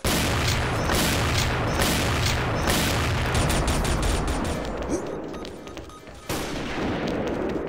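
Gunfire and explosions in the online shooter XSHOT, dense bursts of rapid shots and booms overlapping continuously, loud and close, briefly thinning before another burst.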